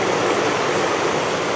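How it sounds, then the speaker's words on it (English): The flooded Susquehanna River roars in a continuous, dense rush of churning water, loud and close, with no voices or other sounds. "the sound of the mighty Susquehanna roaring"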